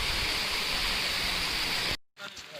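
Water sprays steadily from the Bin Badal Barsat fountain at Sahelion Ki Bari in Udaipur, making a loud, even hiss like heavy rain. The sound cuts out abruptly near the end, and fainter splashing follows.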